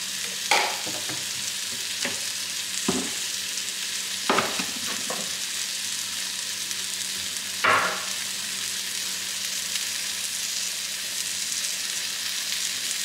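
Tilapia fillets fry in a pan with taco seasoning, giving a steady broadband sizzle with several brief louder bursts as the fish is moved and flipped, close by with no talking.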